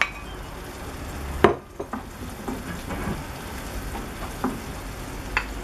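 Shrimp drop into a hot pot for a Chilean seafood pie (chupe de mariscos), setting off a steady close sizzle and frying hiss with a sharp splash and a few faint stirring clinks.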